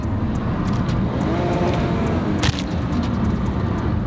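A BMW E46 with a new, remapped engine revs hard toward its rev limiter, giving a loud, sustained, close engine roar that holds steady throughout with no talking.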